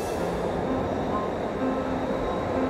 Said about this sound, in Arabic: لا، فاتني القطار.